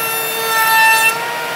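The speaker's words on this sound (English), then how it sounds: "I've done my routing" A router spins in a small, inexpensive router table, giving a steady high whine with a rasping edge as it cuts wood for just over a second, then the cutting stops and the motor winds down, close and alone.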